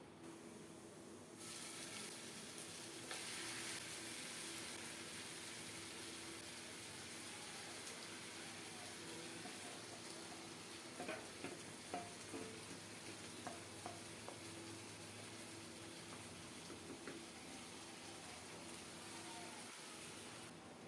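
Chopped onion and marinated country chicken frying in a pan, a constant dense sizzle with occasional crackles and faint stirring clatter, close and continuous for about twenty seconds.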